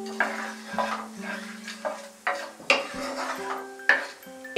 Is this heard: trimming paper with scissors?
no